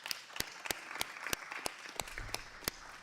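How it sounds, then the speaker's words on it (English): Scattered applause from the audience at a congressional committee hearing, a handful of distinct sharp claps spaced irregularly rather than a full ovation, fairly faint and thin in the room. "You're going to notice Republicans are clapping as well."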